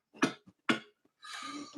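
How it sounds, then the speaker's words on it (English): Two sharp coughs close to the mic, then a breathy throat-clearing rasp, after smoking THCA from a smoke shop. "I'm coughing."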